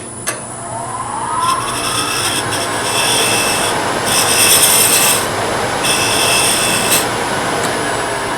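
A parting tool cuts into wood spinning on a small lathe while a Christmas ornament is turned, giving a loud, continuous rasping scrape with brief sharper squeals along the way.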